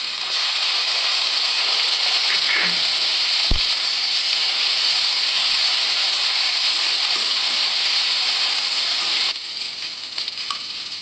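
Ginger-garlic paste frying in oil in a kadai produces a loud, continuous close-up sizzle with one sharp click partway through, easing slightly toward the end.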